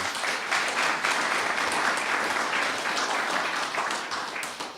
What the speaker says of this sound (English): If we could give them a round of applause for those.